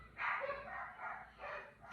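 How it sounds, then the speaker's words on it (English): Dogs bark indoors in the background, a few faint, muffled barks and yips in quick succession. "My dogs are barking, you can probably hear them."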